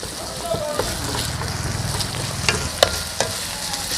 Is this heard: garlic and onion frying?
yes